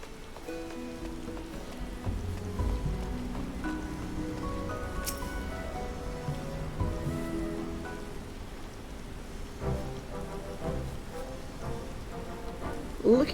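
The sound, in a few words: rain in Idyllshire, Final Fantasy XIV video game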